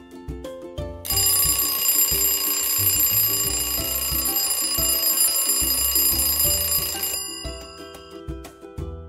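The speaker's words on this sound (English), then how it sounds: "Alarm clock." A bright metallic alarm clock bell rings continuously for several seconds over a plucky background melody, then stops.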